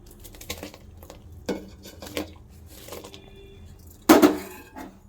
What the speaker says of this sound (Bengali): এবার আমি ঘি দিয়ে মাখানো গোবিন্দভোগ চাল হাঁড়িতে ছেড়ে দেবো